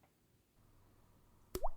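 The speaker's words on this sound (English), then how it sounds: "Then I'm gonna add a splash of water and give this a little mix." A spoon stirs protein powder and a splash of water into Greek yogurt in a bowl, a quiet soft scrape followed by a single sharp wet plop and squish, close and otherwise near silent.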